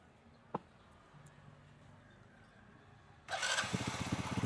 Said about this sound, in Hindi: हमने बाइक को स्टार्ट कर दिया।